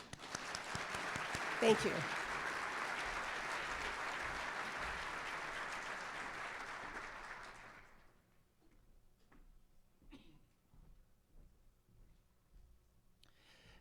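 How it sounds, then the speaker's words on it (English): Audience at Livonia's State of the City 2024 event applauding in a steady, dense round that lasts about eight seconds, then fades into quiet room noise with a brief spoken thanks. "Now we can all applaud."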